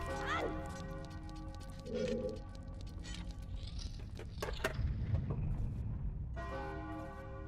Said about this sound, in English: Love hearing the bells.